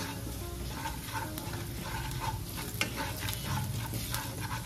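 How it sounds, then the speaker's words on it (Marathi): A spatula stirs cluster beans masala with turmeric and red chili powder in a hot pan, giving a steady soft sizzle with repeated scraping strokes, fairly quiet and with no talking. "2 चमचे लाल तिखट घालायचं आहे आणि छान मिक्स करायचं आहे"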